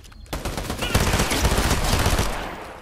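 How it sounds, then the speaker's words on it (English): Bursts of automatic gunfire in the Fortnite Zero Build battle royale, a rapid volley of loud close shots lasting a couple of seconds with no talking. "Oh, that was a waste of bullets."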